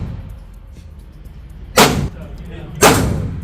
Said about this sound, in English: we'll get the first shots down range